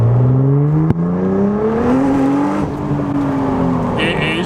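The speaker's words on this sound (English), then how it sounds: "We're going to drop down, low down in second. We're going to do a good pull." Nissan GTR with a mapped engine and straight-pipe exhaust accelerating hard in second gear, a loud continuous roar whose engine note climbs steadily in pitch through the rev range, close to the microphone.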